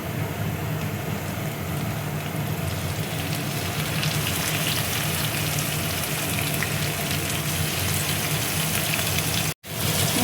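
Katla fish, marinated for hours, hitting hot oil over fried onions, giving a steady, loud, close sizzle and crackle that holds for about ten seconds with a short break near the end.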